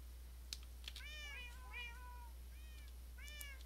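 Cartoonish cats meow in a video game, several short, clear meows in succession over a faint steady hum, with a few soft clicks in between.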